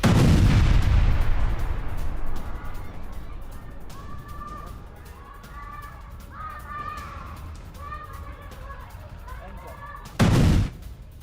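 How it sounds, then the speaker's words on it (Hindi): A heavy explosion from an Israeli strike on a residential area of south Lebanon booms at the start and rumbles away, followed by distant birds calling and a brief loud burst near the end. "दक्षिण लेबनान पर इजराइल का एक और बड़ा हमला"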